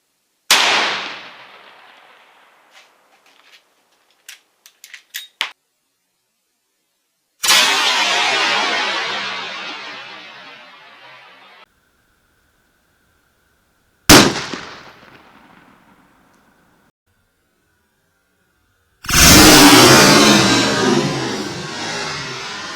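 A 45-70 rifle fires Hornady 325 grain FlexTip LEVERevolution rounds at sheet metal, giving loud, sharp reports with ringing decays, a few small clicks and taps between them, and a long, dense blast near the end.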